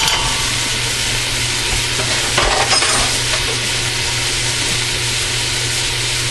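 Onions, peppers, celery and garlic sauteing in a pot for Brunswick stew give a steady close sizzle and crackle throughout, with a brief burst of stirring clatter midway.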